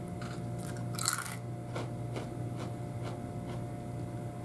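Someone chews Cinnamon Toast Crunch cereal: several crisp, close bites and crunches, then quieter mastication over a low steady hum, with no talking.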